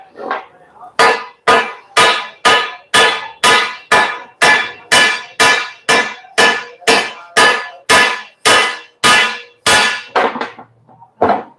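Steady hammer blows ring out on a cracked 4-inch International-type leaf spring during welding repair, about twenty sharp metallic strikes in an even rhythm, loud and close with no talk.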